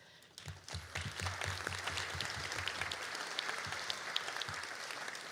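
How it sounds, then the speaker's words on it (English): An audience claps for the professors at a college nurse pinning ceremony. The applause is moderately distant and sustained, with dense overlapping claps that rise and hold for several seconds. "So a great applause for our professors"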